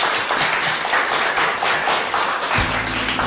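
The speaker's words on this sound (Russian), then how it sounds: "Под ваши бурные аплодисменты." Studio audience applause for a male vocal trio on a 1999 Russian TV music show, a dense, steady wash of clapping from the start; a low sustained music tone comes in near the end.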